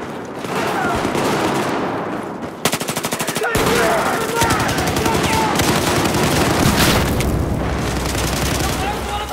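Battlefield 4 multiplayer gunfire in a Siege of Shanghai team deathmatch: dense rapid automatic bursts and booms fill the whole stretch, with a sharp rattling volley near the middle, loud and continuous.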